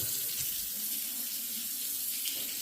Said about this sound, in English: So faucets, again, no issues here.